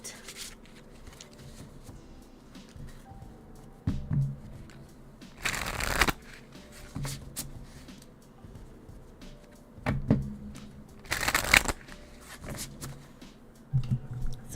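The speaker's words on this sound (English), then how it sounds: "These cards are always so fun to also shuffle." Soft tarot cards shuffled in several separate bursts, close and fairly quiet, with short pauses and light handling sounds between shuffles.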